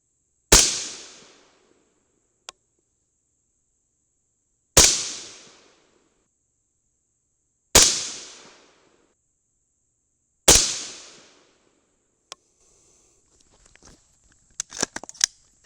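.223 rifle test rounds loaded with no crimp are fired outdoors: four loud sharp shots spaced about three seconds apart, each with a decaying echo, then faint clicks and rattles of handling.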